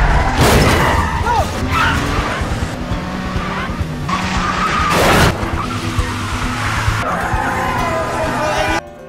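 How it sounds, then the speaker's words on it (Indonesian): Cars racing through a film scene on a road, with roaring engines and screeching, skidding tires, a sharp crash-like burst near the middle, and music and voices mixed in throughout. "saat keduanya balapan mobil"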